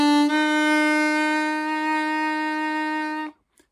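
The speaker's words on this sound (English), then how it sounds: "Then there's overblow, which happens on holes 1 to 6 again, and it's a blow bend." A blow-bend overblow on hole 1 of a C diatonic harmonica, one sustained reedy note held about three seconds, close and clear, then cut off abruptly.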